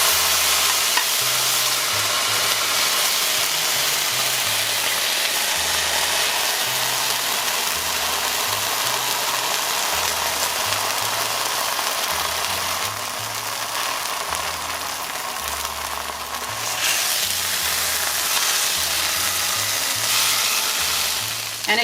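Tortillas crisp in hot oil in a pan, a steady dense sizzle and crackle running loud and close throughout with a low rumbling undertone and no talk.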